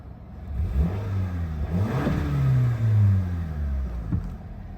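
A 2021 Toyota Camry SE with 45,712 miles and an 8-speed automatic starts up and revs, its engine note climbing and falling in a steady, close, fairly loud rumble with no talking.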